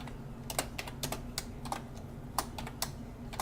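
Keys clatter on a computer keyboard in quick, irregular bursts of close, crisp taps, with no voices over them.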